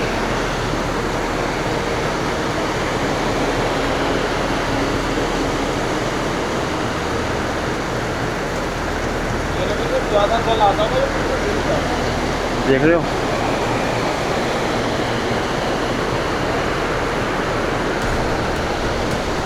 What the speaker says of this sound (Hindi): नीचे आवाज़ सुनो पानी की